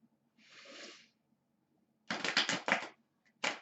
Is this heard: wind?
no